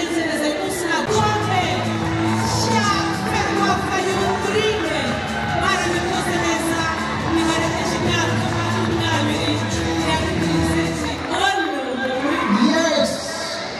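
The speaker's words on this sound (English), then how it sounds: "let's put together a big round of applause for Malindi Football Club youth team for the runners-up position" A crowd cheers and applauds a youth football club team honored as runners-up, a loud, sustained roar of voices and clapping with whoops, continuous throughout.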